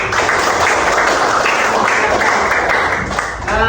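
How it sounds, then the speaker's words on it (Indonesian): A classroom of students clapping together after a song, a loud, dense burst of applause that carries on evenly throughout with no voices over it. "Nah, kasih tepuk tangan."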